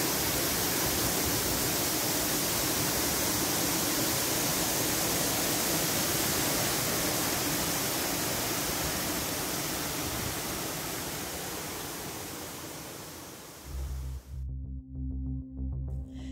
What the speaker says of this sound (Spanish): Mira la cascada.